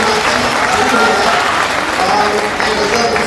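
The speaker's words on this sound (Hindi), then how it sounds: "एक बार जरा तालियां बजा दो" An audience claps at an all-India mushaira poetry gathering in Siwan, a continuous loud wash of many hands with crowd voices underneath.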